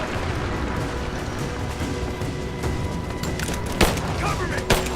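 Gunfire crackles through a firefight in the video game Rise of the Tomb Raider, a dense, continuous roar of battle with two sharper bangs near the end, mixed under shouting voices.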